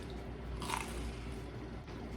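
Crusty gluten-free sandwich bread being bitten close by, one crunchy bite heard alone over a quiet, steady room background.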